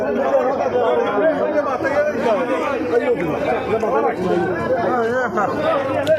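A crowd of expatriates in Sadar upazila celebrates an election victory, with sweets handed out; dense, steady chatter and overlapping voices fill the space at close range throughout.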